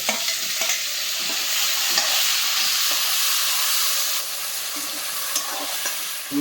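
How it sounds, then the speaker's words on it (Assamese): Tomato frying in hot oil in a pan with chilli, ginger and garlic, a steady close sizzle and hiss with occasional stirring scrapes, no talk. "এতিয়া বিলাহীটো দি পেলাই পূৰা গুড়াকৈ ভাজি কৰি লওঁ।"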